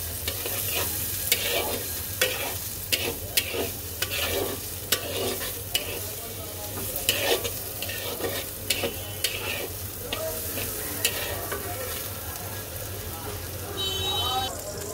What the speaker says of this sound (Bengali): পেঁয়াজটাকে আমি সুন্দর লাল লাল করে একটু হালকা ভেজে নেব।